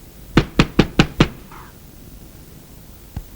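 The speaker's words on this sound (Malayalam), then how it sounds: "എന്താടേ രാവിലെ തന്നെ വാതിൽ വിളിക്കും?" A wooden door is knocked on five times in quick, even succession, loud and close; after a pause a single fainter knock follows.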